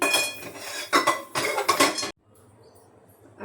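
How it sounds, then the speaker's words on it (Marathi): A metal kadhai is shifted across a stovetop, giving a few loud, close scrapes and clanks of cookware that stop abruptly and leave a quiet kitchen. "कढईला मी इकडे शिफ्ट करते म्हणजे व्यवस्थित दिसेल"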